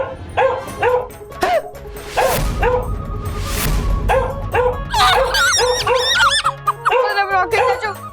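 Dog barking with yips and whimpers in a comedic children's fantasy TV episode, repeated short barks and whines at close range, loud throughout and mixed with music and other effects.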